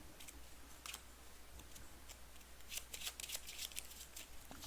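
A deck of Arkham Horror card game cards being shuffled up close, quiet crisp riffling and snapping bursts with clustered clicks, busiest toward the end, and no one speaking.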